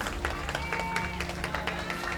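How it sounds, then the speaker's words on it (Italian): A crowd applauds at the Palio delle Botti barrel race in Vittorio Veneto, a dense patter of clapping with a voice speaking over it throughout. "facciamogli ancora un bel applauso,"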